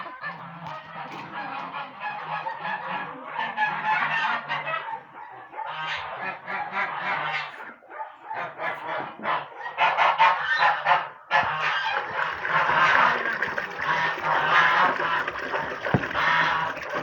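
Domestic geese kept with chickens honk repeatedly at close range, loud nasal calls coming in bursts and overlapping one another across the stretch, with a low hum underneath.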